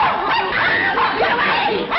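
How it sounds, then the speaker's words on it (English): A dog barks and yips in agitated bursts, close and loud, mixed with overlapping voices in a comedic television scene. "That vicious dog is going to attack me."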